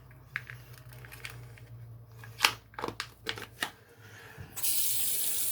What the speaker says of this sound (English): Now I'm going to rinse off the face with some cold water and apply the aftershave.